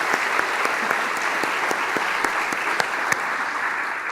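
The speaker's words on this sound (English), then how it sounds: "please stand up and accept our applause." Steady applause from a seated audience honouring teaching faculty at a university president's fall welcome address, dense clapping sustained evenly throughout with a few sharper individual claps standing out.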